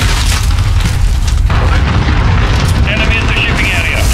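A cruise missile striking in the multiplayer game Call of Duty Modern Warfare (2019), a heavy rumbling boom with a continuous roaring low end and a faint whine near the end, loud throughout.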